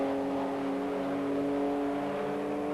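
A Nissan race car competes in a 1990 Esso Group N race at Mallory Park, its engine a steady, sustained whine held at high revs throughout.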